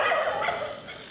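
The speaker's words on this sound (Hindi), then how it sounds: "कुत्तों की आवाज़" Dogs bark at night beside a school in Rajasthan, a short burst of yapping that sounds fairly close and mixed with background noise, with no talking.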